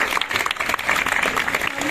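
A crowd claps loudly for a guest, a TV serial actor and Beti Bachao Beti Padhao brand ambassador, at a public event; dense, continuous clapping fills the whole moment with no pause.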